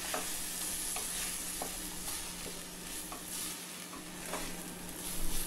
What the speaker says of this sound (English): Fry this for 1 minute.